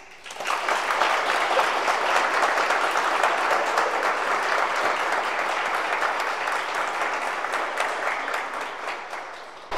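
A church congregation applauds newly confirmed members during a Sunday confirmation service, with steady, full clapping from many people that rises quickly and holds for nearly ten seconds before tapering slightly.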